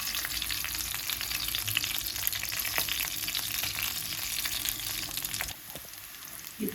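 Raw banana pieces with masala frying in a hot pan, a steady dense sizzle with occasional stirring clicks, close and continuous, briefly dropping quieter near the end.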